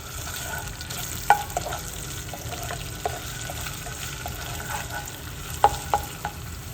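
Half a teaspoon of ginger frying in a little oil in a frying pan, with a steady low sizzle and a few sharp clicks of stirring, heard alone.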